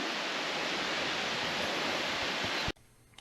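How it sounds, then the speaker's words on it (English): Steady broadband rushing roar of Waimoku Falls, a 200-foot horsetail waterfall on Maui running in a trickle during the dry season, constant and full until it cuts off abruptly near the end, no voices. "Waimoku Falls is a 200-foot horsetail waterfall which eventually runs into the Ohio Gulch stream."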